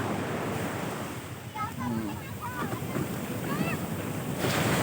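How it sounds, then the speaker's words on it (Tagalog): Strong ocean waves surge and crash continuously at Liwa Beach, Zambales, with wind rushing across the microphone, a broad roaring wash that swells toward the end. "ang lakas po ng alon"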